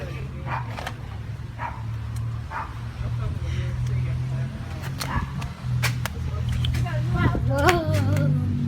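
Several dogs bark and yip in short, uneven bursts, some near and some farther off, with a whimper among them, under ongoing talk from people nearby outdoors in the rain.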